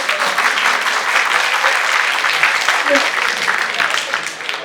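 A seated audience at a Tamil speech event claps together in a sustained, fairly loud wash of applause that fades slightly at the end, with a voice faintly audible beneath it.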